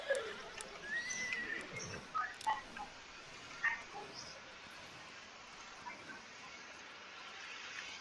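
Horse neighing with clip-clopping hooves in a Wild West video game, a whinny near the start and scattered hoof sounds over a busy game background, faint speech-like sounds mixed in.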